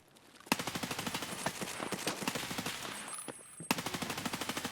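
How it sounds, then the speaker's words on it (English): Rapid automatic gunfire in the shooter game FireFight, two long bursts of evenly spaced loud shots separated by a short pause, close and sharp. "I am taking fire from another location"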